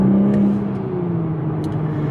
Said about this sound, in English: notice that in this 2021 model, you just don't get the same crackle, pops, and what we call the farting from the exhaust